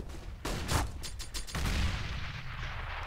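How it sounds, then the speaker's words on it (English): Two grenades exploding during a Counter-Strike match on Dust 2, a pair of close, loud blasts about a second apart, followed by rumbling gunfire and debris noise in the game. "Double grenade."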